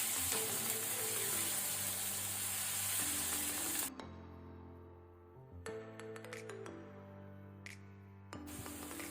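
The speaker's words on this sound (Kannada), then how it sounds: "ಈಗ ನಾವು ಆನಿಯನ್ ಅನ್ನು ಸಹ ಮೀಡಿಯಂ ಫ್ಲೇಮಲ್ಲಿ ಸ್ವಲ್ಪ ಕಲರ್ ಚೇಂಜ್ ಆಗೋ ತನಕ ಫ್ರೈ ಮಾಡ್ಕೊಳ್ಳೋಣ" Onion fries in a pan on a medium flame, a steady close sizzle broken by stirring clinks and scrapes against the pan, with occasional sharp taps and no talk.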